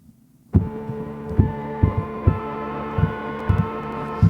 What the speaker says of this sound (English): It's like a pitched gargling.